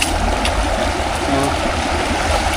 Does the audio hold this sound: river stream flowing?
yes